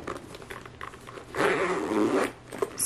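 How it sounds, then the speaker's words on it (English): A zipper pulled closed along a Fawn Design circle bag in one steady, fairly loud stretch lasting about a second, with soft handling rustles before and a small click after. "I can zip it."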